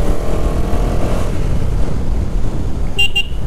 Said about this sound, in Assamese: বহুত দিনত বাইক চলাইছোঁ